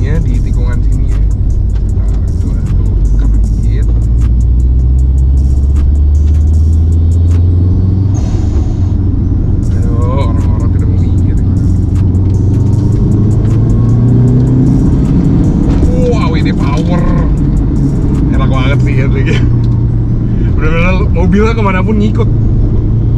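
A lowered Subaru WRX STI with AWD, semi-slick tyres and coilovers rumbles through a corner, its engine droning loud and close inside the cabin while people talk over it.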